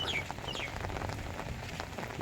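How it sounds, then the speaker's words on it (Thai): Rain falls steadily on a parking lot, a dense even patter with a faint bird call near the start. "วันนี้ฝนตกนะครับ"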